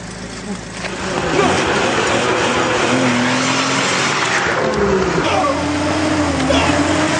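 A car engine roars close by, rising in revs and holding loud and steady with a hint of tire squeal, and a voice talks faintly underneath.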